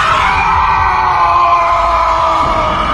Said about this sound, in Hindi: क्योंकि नमन की चीख इतनी तेज थी फोन पर